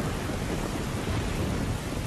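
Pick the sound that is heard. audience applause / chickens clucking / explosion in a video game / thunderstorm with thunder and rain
thunderstorm with thunder and rain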